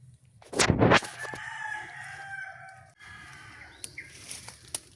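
A brooding hen sits on her clutch of eggs and lets out a loud, drawn-out call up close. It begins with a harsh burst and trails into a sustained tone, followed by quiet scratching and faint clicks.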